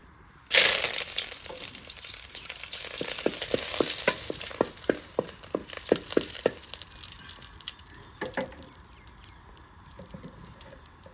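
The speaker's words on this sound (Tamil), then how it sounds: "கருவேப்பிலை போட்டு தாளிச்சுட்டா போகுது" Mustard seeds and curry leaves hit hot oil in a pan with a sudden loud sizzle, then crackle and pop in rapid close bursts that slowly ease off.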